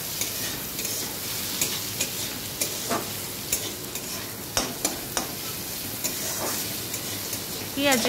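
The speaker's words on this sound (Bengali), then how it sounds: "পেঁয়াজ কুচিগুলো দিয়ে দিলাম। দিয়ে এবার একটু নেড়ে নেব এভাবে।" Chopped onions fry and crackle in hot oil over medium heat, with a steady broadband sizzle throughout and repeated scraping stirs of a utensil against the pan, loud and close.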